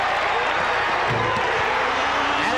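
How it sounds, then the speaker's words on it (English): A loud basketball crowd at a 1994 college game between VCU and Virginia Tech roars and cheers in a steady, dense wash of noise, with faint scattered voices inside it. "this crowd is a loud one."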